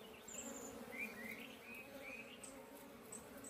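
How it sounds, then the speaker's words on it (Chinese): Honeybees at the hive at dawn in a mountain village, a soft continuous buzzing of many bees with a few faint bird chirps over it, quiet and even throughout. "蜜蜂真的很勤快呀"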